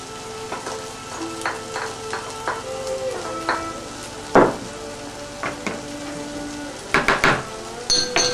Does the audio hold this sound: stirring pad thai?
yes